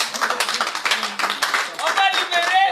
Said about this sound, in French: Applaudissez d'abord pour ça.